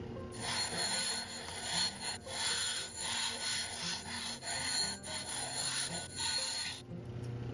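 A rough-edged agate is ground smooth, giving a steady, repeated rasping scrape in regular strokes, close and moderately loud, with no talk.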